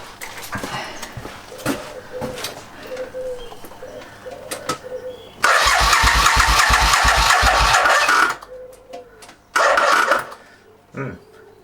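A Suzuki Intruder VS700 motorcycle engine cranks over after a battery charge: a loud, steady whirring crank of about three seconds, then a shorter second burst, with quiet background sounds and birds cooing in between.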